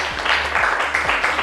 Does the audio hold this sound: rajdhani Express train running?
no